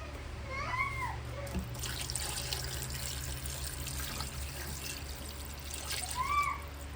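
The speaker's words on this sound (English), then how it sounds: "So now I'm gonna add some water." Water pours steadily into a pot in a soft trickling stream, quiet and close, with a low hum underneath and a few faint squeaks.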